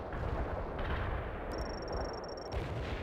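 Artillery fire rumbles continuously in the real-time strategy game World in Conflict, with dense overlapping booms and distant blasts filling the background at steady loudness.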